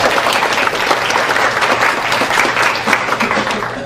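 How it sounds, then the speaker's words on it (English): Loud, sustained audience applause at an academic conference, many hands clapping steadily throughout with no pauses. "Round of applause again for Shutama."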